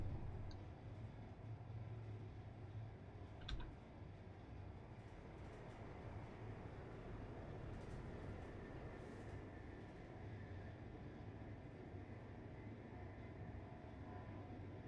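Train starting off in the Train Life railway simulator game, a steady low rumble of the engine and rolling wagons with a brief clank early on, continuous and moderately loud with no talk.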